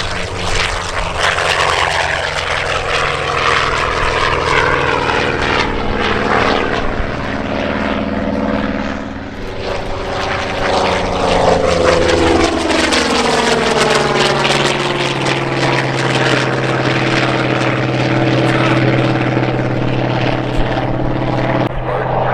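A WWII fighter's propeller engine roars loud and close just after takeoff, a throbbing drone whose pitch sweeps downward as the aircraft passes and climbs away, with no talk.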